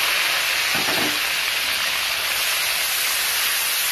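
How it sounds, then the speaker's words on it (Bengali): Onion paste hits hot oil in a pan with bay leaf for a spicy chicken curry, a loud dense hiss and spatter that swells briefly, then holds steady and close. "তেল গরম হয়ে যাওয়ার পর তার মধ্যে দিয়ে দেব পেঁয়াজ বাটা।"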